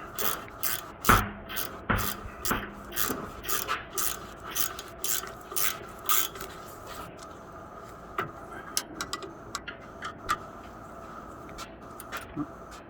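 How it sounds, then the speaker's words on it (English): A ratchet or gear wrench drives brake caliper bolts home on a car's rear brakes in quick bursts of close clicking, loud at first, then sparser and fainter, with scrapes between the bursts. "So we're just going to ratchet these things in place."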